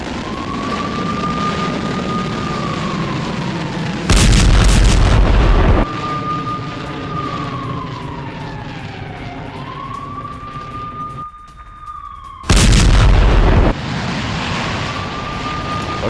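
Explosions from an IDF fighter jet airstrike on Hamas positions in Gaza: two loud, heavy booms several seconds apart break over a steady rising-and-falling siren wail, with no voices.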